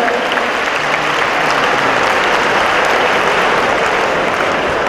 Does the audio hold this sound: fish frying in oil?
no